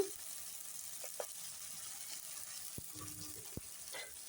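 Spice paste frying in a pan with salt, turmeric and a spoon of sugar for a Bengali dal curry, giving a soft, steady sizzle with a few light clicks and taps from stirring.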